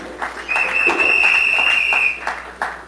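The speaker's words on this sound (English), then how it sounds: "Please give them a round of applause." A round of applause for two councillors introduced as chairpersons at a public panel, with clapping swelling over a steady electronic tone before tapering off near the end.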